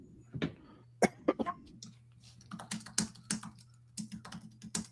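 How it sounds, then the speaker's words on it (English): Faint, sharp coughs break out amid soft keyboard tapping during a sports talk show, the quiet clicks continuing around them. "Sorry about all the coughing."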